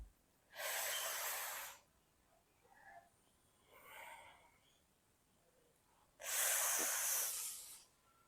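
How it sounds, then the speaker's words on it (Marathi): Pranayama breathing: two long hissing breaths drawn in through the teeth, each over a second, separated by a softer exhale through the nose, close and alone in a quiet room. "श्वास घेतला श्वास सोडताना नाकाने श्वास सोडायचा आहे"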